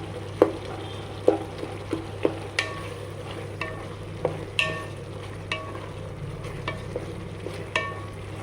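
Tomato bath frying in a pan with a soft continuous sizzle, broken by a series of sharp spoon clicks and scrapes against the metal at an uneven rhythm, close up and without speech.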